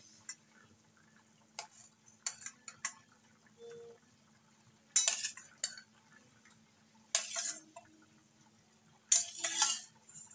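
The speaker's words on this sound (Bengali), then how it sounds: "এবার আমি মাছগুলোকে আস্তে আস্তে দিয়ে দেবো।" Pieces of rui fish are slipped into a simmering potato and papaya curry in a pot, giving soft wet plops and utensil scrapes in three short bursts amid faint clinks and quiet pauses.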